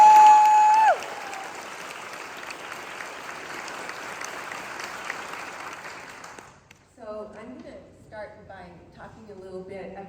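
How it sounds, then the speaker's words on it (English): A couple hundred people clap on the floor of a church during a book tour event, a moderate steady patter that fades out partway through, after which a voice speaks over the quiet room. "So a huge round of applause for our mom"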